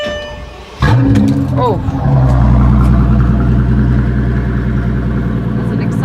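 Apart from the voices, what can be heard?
Maybach Exelero concept car engine starting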